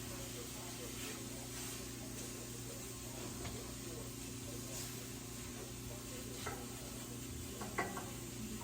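Food sizzles in a cast iron pan on a wood stove, a soft continuous fry with scattered light pops and scrapes, fairly quiet, with faint talk in the background.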